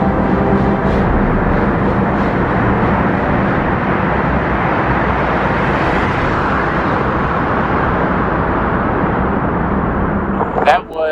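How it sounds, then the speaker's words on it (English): Cars roaring past in a long, steep road tunnel in Norway, a loud continuous reverberant rumble filling the space, with wind noise, as a cyclist rides through. "God, the cars are loud when they pass."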